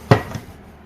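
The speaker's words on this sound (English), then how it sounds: "Shuts the door." Plywood chuckbox door shutting with a magnetic lock, a single close, sharp knock followed by a faint second tap, then quiet.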